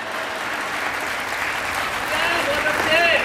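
A comedy poetry night audience claps in a steady, dense wash of applause that swells slightly louder toward the end, with a faint voice or whistle rising over it.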